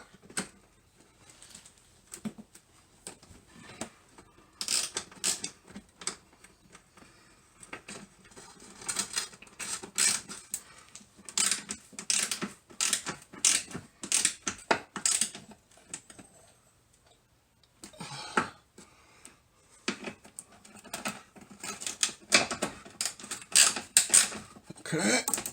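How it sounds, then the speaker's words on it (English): Ratchet wrench tightening bottom bolts on a C4 Corvette, heard as bursts of quick clicking ratchet strokes with short pauses and a longer gap midway, close and moderately loud. "Do up these bottom bolts first."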